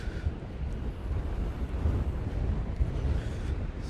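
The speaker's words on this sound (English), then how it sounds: "The wind is coming offshore." Offshore wind buffeting a clip-on wireless microphone at the seashore, a constant loud low rumble with gusty fluctuations and no pauses.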